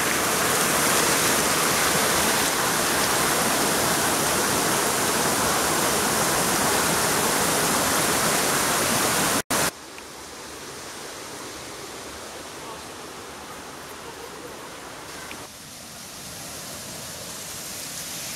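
A hot waterfall at Kerosene Creek, a warm geothermal stream with steam rising off the water, gives a loud, steady rushing roar that fills the first half, cuts out sharply, then returns as a quieter, more distant wash.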